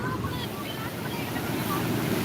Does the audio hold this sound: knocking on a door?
no